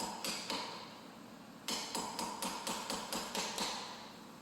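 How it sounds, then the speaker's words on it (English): A hammer taps a pulley down onto the shaft of a Kawasaki Z930M mower's hydraulic transmission, about a dozen sharp metallic knocks in two uneven bursts, close and clear against a quiet background. "I just take I don't know what size hammer that is, and I just hammer it"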